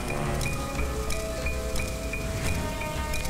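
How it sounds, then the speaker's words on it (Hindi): Steady rain falling outside a house, a dense broadband patter with faint drips standing out, continuous and fairly close throughout. "बारिश हो रही है"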